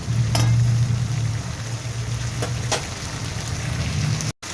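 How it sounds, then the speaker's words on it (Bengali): Spice paste for a white kalta fish curry, made without turmeric, sizzling and frying steadily in a pan with a few stirring scrapes, a continuous close crackle from start to end. "মশলাটা একটু কষিয়ে নেবো আমি"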